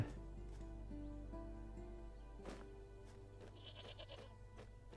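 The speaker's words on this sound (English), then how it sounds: "Little goat, he's hilarious." Goat bleating in the video game Svarog's Dream: a few short bleats over steady, droning game music, fairly quiet and mid-distance.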